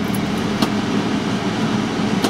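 An extraction fan in a spray booth used for airbrushing a guitar, running as a steady broadband whoosh with a low hum, close and continuous, with no voices.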